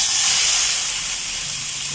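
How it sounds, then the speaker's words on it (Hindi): Chicken cubes frying in a pan for chicken pickle, a loud, bright, continuous hiss of hot oil with a short knock right at the end. "अभी इसको कर लेते हैं फ्राई"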